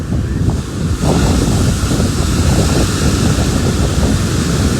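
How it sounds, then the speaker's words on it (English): Ocean waves breaking at The Wedge beach, a steady loud roar of surf with continuous wind buffeting the microphone throughout. "I'm going to show you how this wave forms."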